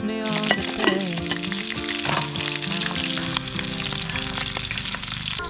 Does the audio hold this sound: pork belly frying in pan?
yes